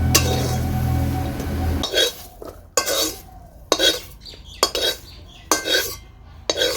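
Cooked yardlong beans scooped out of a pan with a metal utensil, about half a dozen sharp clinking scrapes spaced roughly a second apart after a brief stretch of sizzling.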